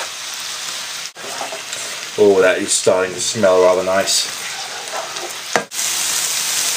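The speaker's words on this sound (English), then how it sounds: "You can hear it starting to sizzle as well as the heat in the pan builds." Beef browns in a hot frying pan for a pie, sizzling steadily with a constant crackling hiss, while a person speaks over it briefly.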